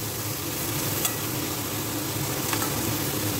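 Ground pork sizzles in a pan on low heat with no oil, a continuous close frying hiss broken by a couple of faint stirring scrapes.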